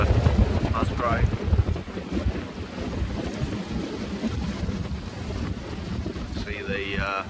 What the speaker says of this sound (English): it's blowing about 20 knots, maybe a little bit more